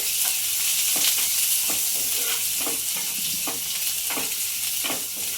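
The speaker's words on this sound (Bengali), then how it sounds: "রসুনটা গ্রেট করা আর আদা গ্রেট করা দিয়ে দেবো দিয়ে একবার একটু নেড়ে নেবো হালকা করে" Grated garlic and ginger with whole cumin and dried chillies stirred in a hot oiled pan: a continuous bright sizzle with about seven rhythmic scraping strokes of a spoon, close and fairly loud, no talking.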